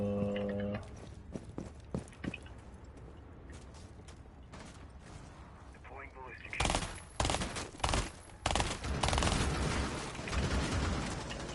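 Bursts of rapid gunfire in Rainbow Six Siege on PS4 crackle in irregular volleys, sparse at first then growing louder and denser, with mechanical clicks between shots.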